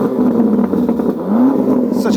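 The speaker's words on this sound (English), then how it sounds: "Rev it up again." A Range Rover Sport SV twin-turbo V8 revs, its engine note swelling up in pitch and then settling back, with a voice talking alongside it.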